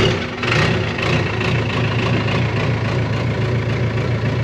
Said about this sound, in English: dozer startup time again